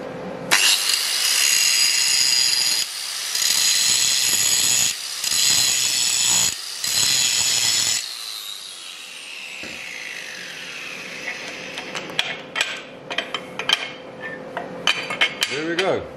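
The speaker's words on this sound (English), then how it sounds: "I can just take my tack weld off." Tack weld on a steel spring perch bracket being removed, heard as loud bursts of harsh grinding with brief pauses, then lighter scattered metallic taps and clinks as the part comes free.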